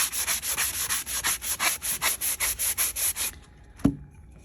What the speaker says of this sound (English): start sanding.